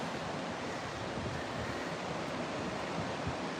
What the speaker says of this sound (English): And it can get quite windy here.